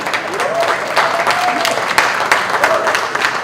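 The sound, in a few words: audience applause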